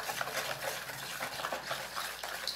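Homemade blue bicarbonate and Ajax soap mixture being stirred in a container, a steady close scraping and sloshing texture with soft irregular strokes, no voices.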